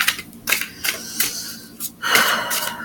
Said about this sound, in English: I am shuffling the cards as we speak